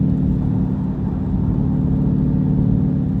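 A 2018 Dodge Charger R/T engine fitted with a Mopar cold air intake drones steadily at close range, a thick low rumble with a mid-range whir and no voices.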